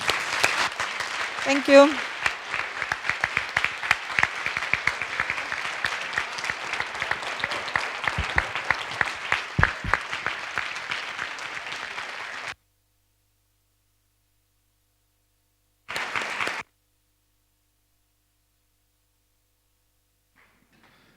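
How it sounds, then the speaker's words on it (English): Audience applause for the trainers community at a BEST general assembly in Tallinn, a long, dense ovation of many clapping hands lasting about twelve seconds, then a brief second burst after silence, with a short spoken thanks. "I would like to have a huge round of applause for all the trainers community, Tigro"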